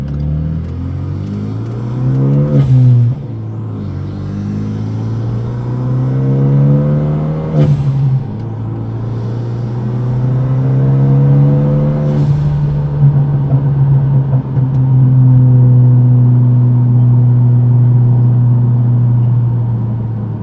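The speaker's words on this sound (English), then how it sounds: "This car sounds more extreme with the door inserts out." Renault Megane RS RB8 engine heard from inside the cabin with the door inserts removed, revving loudly through repeated gear pulls with sharp shift breaks, then settling into a steady droning cruise.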